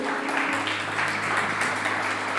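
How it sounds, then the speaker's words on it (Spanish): An audience applauds briefly at a talk on financial culture, a steady wash of clapping held at a moderate level for a couple of seconds. "vamos, un aplauso"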